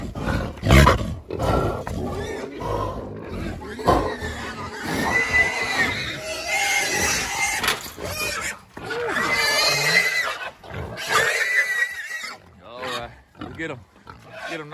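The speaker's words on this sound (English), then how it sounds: "7 pigs." A sounder of seven wild boar grunts and squeals near a boar hole, rough snorting calls coming in irregular bursts over several seconds, with someone talking over them throughout.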